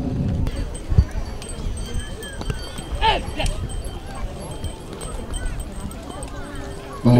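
Pairs of racing cattle at a village bull race in Baliase run along the track, with irregular soft hoof thuds and crowd noise in the background under a commentator's continuous announcing.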